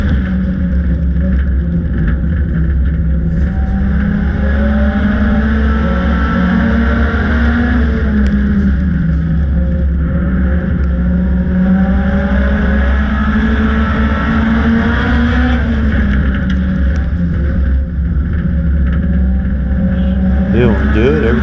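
Race cars on a dirt track heard from inside, a steady loud engine drone with slowly rising and falling pitch and constant rumble throughout.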